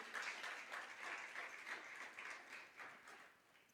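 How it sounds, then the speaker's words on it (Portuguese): A church congregation applauding during a sermon, soft, distant clapping with a loose, uneven rhythm that gradually fades away. "Você pode aplaudir o Senhor?"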